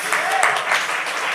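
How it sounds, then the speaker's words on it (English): Audience applause breaks out on a podcast stage as a crowd claps in a continuous, fairly loud patter, with faint voices blending beneath the clapping. "We can clap for that."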